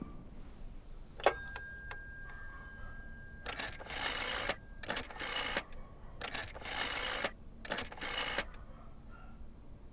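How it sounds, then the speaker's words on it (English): In the video game Layers of Fear, a telephone rings in bursts: a single bright bell tone, then four repeated rings with short gaps between them. It is fairly loud and nearby over a low ambient hum. "Might as well make some good use of the phone while I'm here."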